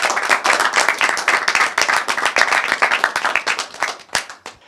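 A fan audience at a cricket talk show claps for itself in a dense, lively burst of many hands that runs for several seconds before thinning into a few scattered claps at the end.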